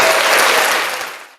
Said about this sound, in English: Yeah, that deserves an applause because that's just goofy.